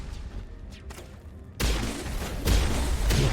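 Pistol gunfire in the video game Mass Effect: quiet game ambience gives way to a loud burst of heavy, booming shots, with further thumping blasts roughly every half second to the end.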